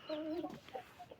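Black hens cluck in a few short, close bursts on a farm that raises chicks and eggs, with quiet pauses between the calls.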